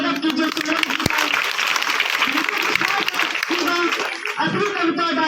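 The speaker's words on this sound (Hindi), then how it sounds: "तो जोरदार तालियों से स्वागत कीजिए" Applause from a school audience at a government girls' school event, dense clapping mixed with some chuckles and murmuring voices, steady and fairly loud throughout.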